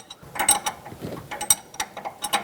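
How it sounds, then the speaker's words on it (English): Mounting nuts are tightened on an inner tie rod tool during an inner tie rod replacement on a 2013-2020 Nissan Pathfinder, giving a steady run of close mechanical ratcheting clicks and metallic creaks with no talk. "I'm going to tighten up these mounting nuts"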